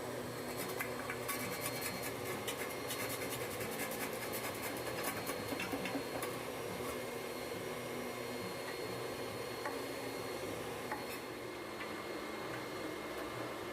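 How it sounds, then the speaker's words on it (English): A brush scrubs ash from inside the oven of a Kuma Applewood wood cook stove, a faint, steady rasping and rubbing that continues evenly throughout with no talk. "use the brush to clean the back wall of the oven as far as you can reach"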